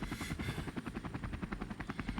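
A helicopter flies close by, its rotor blades thumping in a steady rapid rhythm over a continuous engine whine, loud and alone.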